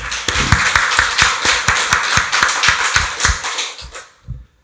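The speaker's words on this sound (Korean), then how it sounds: "박수로 하나님께 영광 돌리겠습니다." Church congregation clapping during a Sunday worship service, a strong, rhythmic unison beat of hands striking together at a steady pace for about four seconds, close and loud, then stopping abruptly.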